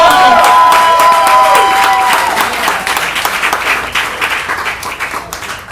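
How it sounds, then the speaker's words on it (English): Comedy club audience applauding and cheering as a comedian is welcomed onto the stage, loud and dense at first with a brief high tone over it, then thinning and fading. "Give it up for Saul"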